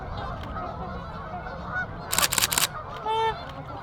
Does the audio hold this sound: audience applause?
no